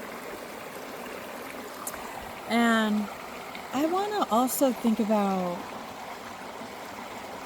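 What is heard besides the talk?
flowing water of a stream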